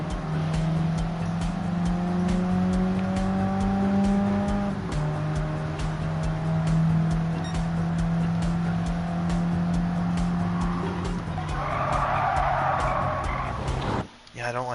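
Race cars from Gran Turismo 7 drone steadily side by side, engine notes holding then stepping down as gears change, with a burst of tire noise near the end; a low-powered car struggles uphill while another runs alongside.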